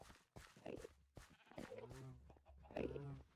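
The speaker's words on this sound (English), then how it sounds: "Hello, Mr. Sheep." Sheep in a video game farm bleating in a few wavering, nasal cries, with a voice speaking in between.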